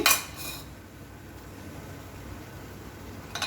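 A utensil clanks against a pan at the start and again at the end as jaggery melts with tamarind, with a steady low hiss of cooking in between and no talk.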